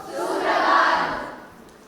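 An audience at a school Teacher's Day celebration applauds and cheers a welcome, a dense, roaring swell of clapping and crowd noise that builds and then tails off.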